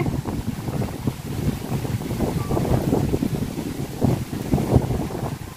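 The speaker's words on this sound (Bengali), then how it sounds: "বিশেষ করে বাতাসে দেখেন পানিগুলারে, পানি এরকম ঢেউ খাইতেছে।" Strong storm wind blows over floodwater around a house, gusting and buffeting the microphone steadily, with waves lapping underneath throughout.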